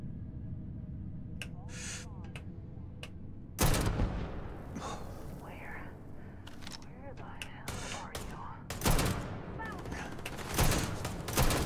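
Gunfire rattles through a firefight in the video game Starfield. Loud bursts and single shots are scattered irregularly across the clip, with heavier volleys near the start, middle and end over a low background rumble.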